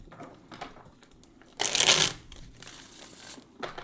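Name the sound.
shuffling oracle cards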